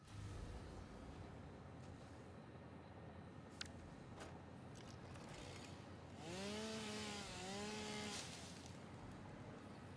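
A chainsaw in the video game Satisfactory runs as a steady, faint mechanical drone, swelling with a warbling rise in pitch twice near the end as it cuts.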